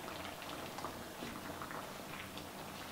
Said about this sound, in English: I'm gonna stir this all up real good.